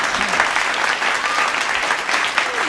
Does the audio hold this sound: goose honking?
no